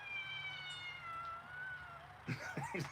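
A long drawn-out cat meow wavers for about two seconds, followed by a few shorter, sharper yowls from indoor cats reacting to a black cat outside, with faint background noise throughout.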